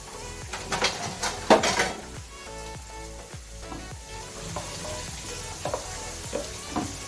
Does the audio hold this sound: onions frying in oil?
yes